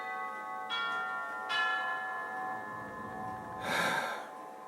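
An indoor clock chiming, with two ringing bell-like tones that sustain and overlap, followed by a soft breathy noise, close and moderately loud in a quiet room.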